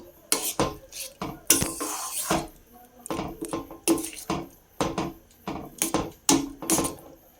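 A spoon stirs roasted cumin powder and leftover frying oil in a metal pot. It gives repeated, fairly loud scrapes and clinks in an uneven rhythm, with no talking.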